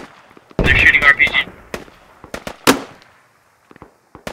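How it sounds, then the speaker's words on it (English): A loud blast of RPG fire in the military shooter game Squad, followed by scattered distant gunshots and pops, with players talking over the battle. "They're shooting RPG."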